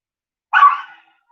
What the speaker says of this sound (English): hey, puppy, do you love that bark?